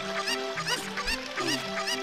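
A chicken clucks repeatedly in The Legend of Zelda: Ocarina of Time, its quick clucks coming in a steady run over a continuous game music backdrop.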